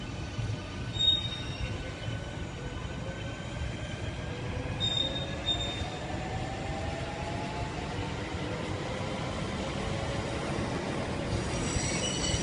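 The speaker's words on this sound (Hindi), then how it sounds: "आप देख रहे हो ऊपर भी ट्रेन जा रही है और अंडरग्राउंड में भी ट्रेन जा रही है।" A train passes through a UK station with underground and overground lines, its wheels squealing in long, rising metallic tones over a steady rolling rumble that lasts throughout.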